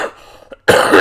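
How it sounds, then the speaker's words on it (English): A person gives a short, close cough, a sharp burst after a quiet moment that breaks into a loud, rough rush of breath. "I've still got a cough, and it's nothing to do with COVID."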